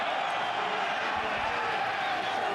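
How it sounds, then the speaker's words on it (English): A rugby stadium crowd at an Agen home Pro D2 match against Colomiers, a sustained loud roar of cheering and voices filling the ground evenly throughout with no single standout sound. "there's the Agen crowd in voice"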